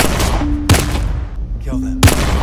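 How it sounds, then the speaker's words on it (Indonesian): Two sharp, loud gunshots about a second and a half apart ring out in a dramatic film scene, each a sudden crack over a steady background of music and ambience. "Untuk menggertak, mereka menembak kedua orang tua Denny"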